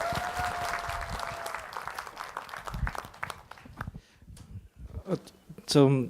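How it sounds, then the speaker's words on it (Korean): An audience at a televised education talk event claps to welcome a speaker, a brief burst of applause that fades as voices talk over it and a louder voice enters at the end. "박수로 맞이하죠"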